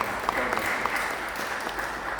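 A congregation at a Hindi church service gives two brothers a brief, steady round of hand clapping with a dense, even texture.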